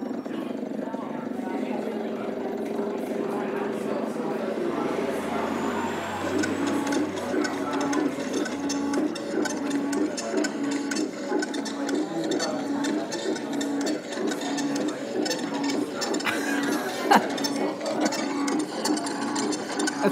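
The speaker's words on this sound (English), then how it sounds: "It's using a printer to make the music." A dot matrix printer plays music, its print head buzzing and chattering in repeating pitched patterns, a steady mechanical rattle sustained throughout the stretch.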